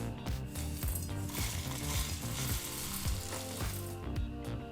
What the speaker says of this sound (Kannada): ಈಗಿಲ್ಲಿ ಗಸಗಸೆನ 30 ಸೆಕೆಂಡು ಚೆನ್ನಾಗಿ ಹುರಿದಾಯಿತು